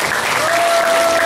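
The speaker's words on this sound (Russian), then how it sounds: "Вам аплодируют присутствующие в этом зале." Audience in a hall at a family celebration honoring a long-married couple applauds steadily, a dense, continuous round of clapping filling the whole moment.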